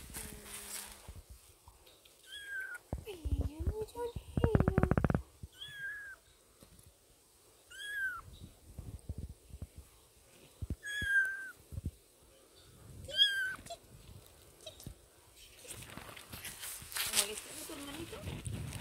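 Fifteen-day-old kittens give short, high, thin mews scattered among indoor handling noises and soft thumps, with people speaking quietly nearby.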